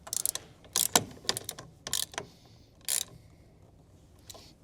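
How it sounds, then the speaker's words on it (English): A ratchet with a 10mm socket tightens bolts on a Honda Pioneer turn signal install, in quick bursts of close, crisp clicking separated by short pauses. "we can tighten them back up utilizing a 10mm wrench and socket"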